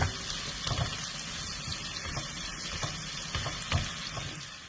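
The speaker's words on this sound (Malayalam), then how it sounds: "ഒരു സെറ്റ് സവോള വറുത്തെടുത്തിട്ടുണ്ട്. ഇത് രണ്ടാമത്തെ സെറ്റാണ്. ഇതൊന്ന് മൂത്തുകൊണ്ടിരിക്കുന്നു." Sliced onions frying in a pan as a second batch, a steady close sizzle with scattered stirring clicks throughout and no talking.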